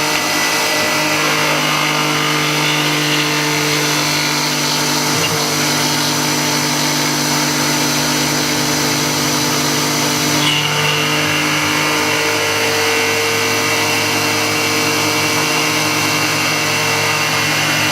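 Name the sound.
end mill cutting metal, milling machine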